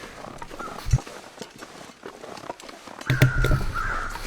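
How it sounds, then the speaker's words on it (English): Crows caw in the survival video game The Long Dark, with scattered faint knocks and steps at first, then a burst of harsh, loud caws near the end. "I hate birds in real life, so I guess it only makes sense that I hate birds in the game."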